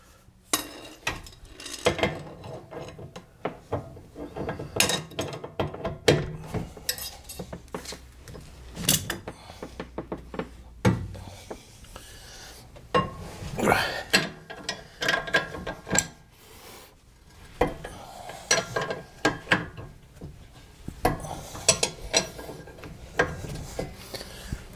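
Ratchet wrench clicking in repeated bursts while loosening trailing arm nuts in the wheel well of a Pontiac GXP during a coilover install, with metallic clanks and rubbing between the ratchet runs, close and fairly loud.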